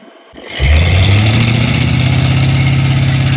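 A car engine revs hard from a low start into a loud sustained roar, with one rear tire spinning because the axle lacks a positraction unit, the steady howl held close and unbroken.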